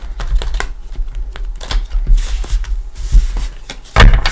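Tarot cards are shuffled by hand in a few quick bursts, crisp papery riffles and taps close up with uneven rhythm, no voices.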